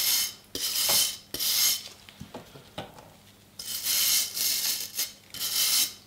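A rusty knife tang is scrubbed with a brush, giving several close, bursty scratching strokes separated by short pauses and faint clinks.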